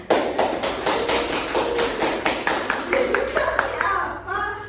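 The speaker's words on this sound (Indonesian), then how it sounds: "Dikasih tepuk tangan." Classroom of fourth-grade students clapping for a student group, an uneven patter of small hands with distinct sharp claps standing out, near and lively, ending with a few voices.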